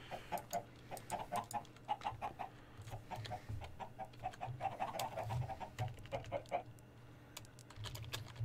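Chickens clucking in the Minecraft video game, with soft scattered clucks running through the clip beneath steady, close computer keyboard typing.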